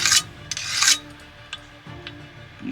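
Speedy Sharp carbide file dressing the burr off the outer edge of a chainsaw bar: a few short raspy scraping strokes, close and fairly loud, with quieter scratches between, no talking.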